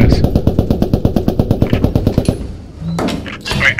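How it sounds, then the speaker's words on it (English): Rapid, loud, evenly spaced bursts of machine-gun fire in the World War II shooter Post Scriptum, firing from a Churchill tank, about twenty shots over two seconds, then quieter rumbling and clatter. "Wait, someone's shooting back at us."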